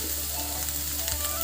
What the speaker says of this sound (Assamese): চিকেনখিনি দি দিলোঁ। আৰু এতিয়া লাহে লাহে মই লৰাই দিম।